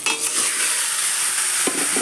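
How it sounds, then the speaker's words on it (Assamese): Marinated meat fries in a wok with a little oil while being stirred, producing a loud, continuous close sizzle with scraping turns and a brief louder clatter near the end. "এতিয়া মেৰিনেট কৰা মাংসখিনি ইয়াত দিলোঁ"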